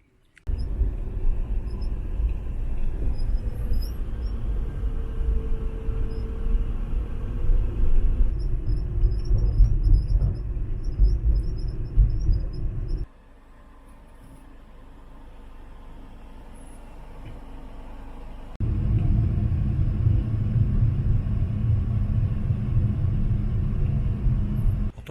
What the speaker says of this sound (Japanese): こちらの16時15分のバスで音威熱風駅に向かいます。